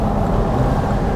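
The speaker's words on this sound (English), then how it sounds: "Also makes a really nice exhaust note when you have it in sport mode." A 2016 Mini Cooper Convertible in sport mode gives a steady, loud, low engine and exhaust drone that runs throughout with no pauses or talk.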